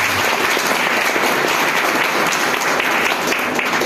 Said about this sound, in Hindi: एक बार ताली बनता है सर।